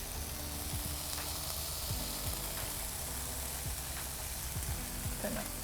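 Indonesian food sizzling across the hot centre of a grill, a steady dense crackle with faint scattered pops and a low background hum, no talking.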